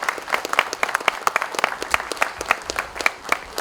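Applause from an audience at a gathering of Uttarakhand ex-servicemen's welfare corporation staff, a dense, steady clatter of many hands clapping at close range, with no voices.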